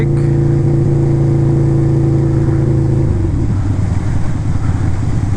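A Harley motorcycle engine ridden through a blizzard, a loud close steady drone with strong low harmonics that drops in pitch and roughens partway through as the rider eases off.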